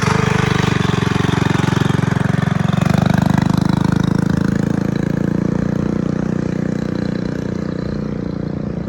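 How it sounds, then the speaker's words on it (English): A mini bike engine fitted with a new exhaust runs loud and close, a steady mid-pitched buzzing drone that rises slightly, then settles while the machine pulls away, with no talking. "Sounds better with the new exhaust, that's for sure."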